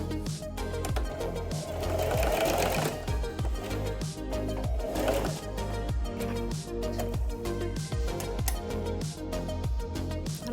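A sewing machine stitching the ear of a fabric cat hat, a steady fast mechanical whir with a rapid regular rhythm, close and moderately loud with no talk.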